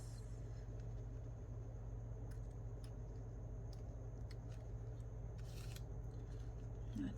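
Scissors snip through paper in a series of crisp, close cuts over a low steady hum, with a brief rustle of paper near the end.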